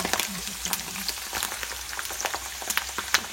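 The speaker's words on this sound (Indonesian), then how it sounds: "masukin jantung ya, hati-hati soalnya kadang-kadang suka meledos." Chicken hearts fry in hot oil, giving a loud, continuous sizzle broken by frequent sharp crackles and pops, close up, with no talk.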